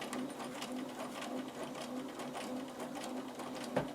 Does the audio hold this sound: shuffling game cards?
no